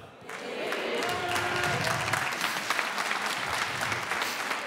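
Audience at a stand-up comedy show applauds with dense, steady clapping that rises quickly and holds for several seconds, with scattered cheers, in an indoor venue.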